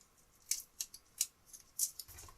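Double-sided tape being pulled and handled while making an ink-blended card, giving several short, sharp tearing rasps spaced irregularly with quiet gaps between, close and fairly faint, with no talking.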